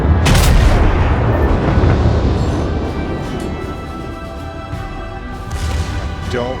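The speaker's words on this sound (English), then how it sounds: "firing my secondary batteries at him, and I'm hitting him" Warship secondary battery guns fire in a naval battle video game, heavy booms that roll into a long rumbling decay, with a few fainter shots and engine noise continuing.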